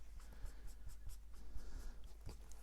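A sponge or ink pad is rubbed around the edges of 12x12 cardstock for a wallet project, giving close, dry, repeated scuffing strokes in a steady rhythm with no talk.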